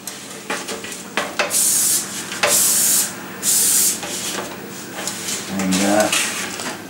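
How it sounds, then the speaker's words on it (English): Several short hissing sprays of cooking spray on bread rolls in bursts, fairly close, with light kitchen clatter and a brief sizzle near the end. "So I'm just going to give them a quick spray with the cooking spray."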